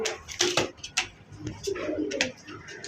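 A pair of Adana dewlap pigeons, a cock and an exhibition hen, cooing close by in repeated throaty bursts mixed with soft rustling and faint background noise.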